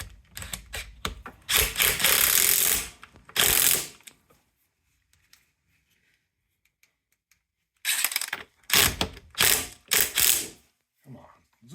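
A ratchet tightens a 17 millimeter nut on a 1970 Honda CT70 trail bike, coming in close, loud bursts of rapid clicking with a long quiet pause in the middle and no voices.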